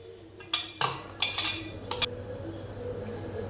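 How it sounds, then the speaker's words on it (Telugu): A metal spoon scrapes and clinks against a bowl while coconut is mixed into a mango pickle, several sharp scattered taps over a low background hum, no talking. "మాగయ్యలో కొబ్బరి కలిపేసుకుని"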